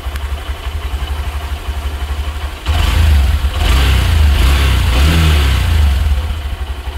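A Honda SP 125 motorcycle engine idles steadily at close range, then rises into a light, smooth rev that holds for several seconds before easing back, with no voices over it.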